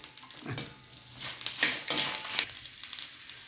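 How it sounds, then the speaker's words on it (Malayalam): Dried red chillies fry in a pan with peeled garlic, a soft close sizzle broken by a few scraping stirs, the hiss swelling and easing over a few seconds with no voices. "9 ഉണക്കമുളക് അതും കൂടി ഇതിൻ്റെ കൂട്ടത്തിലിടുവാണ്. ഒന്ന് മൂത്തോട്ടെ."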